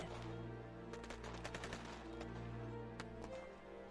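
Gunfire in the city of Rastatt in April 1945, rapid bursts and single shots over a dense, steady wartime din that continues throughout.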